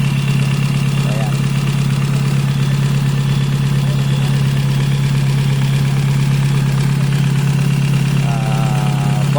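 Freshly overhauled engine idling with a steady, loud, even low hum throughout, continuous and close, with someone talking over it.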